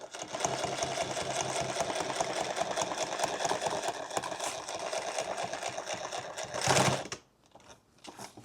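A sewing machine stitching heavy ballistic nylon for a duffle bag, a steady rapid mechanical chatter running for several seconds, then stopping with a short burst of handling noise and quiet afterward.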